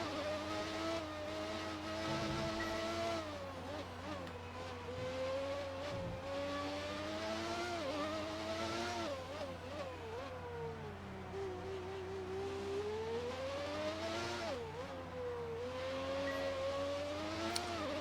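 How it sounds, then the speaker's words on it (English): High-pitched Ferrari Formula 1 engine in the F1 2019 racing game, revving and shifting continuously with rising and falling whines through gear changes, carrying on alone with no talking. "I'm actually going to go quiet for a second and just leave you guys with the noise of this Ferrari"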